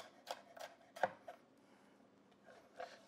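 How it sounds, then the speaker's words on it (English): A knife chops a red bell pepper on a board, faint and close, in a few separate sharp strokes with pauses between them. "we're just gonna keep on chopping"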